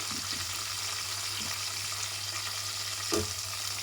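Potato chunks frying in a pan for potato pulao make a soft, continuous sizzle, fairly quiet and close, with a light clatter near the end and no voices.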